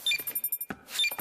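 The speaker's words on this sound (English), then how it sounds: "Why is the computer beeping?" A few short electronic beeps from a library computer, high and clean, repeating in a quick pattern with brief pauses between them, fairly close.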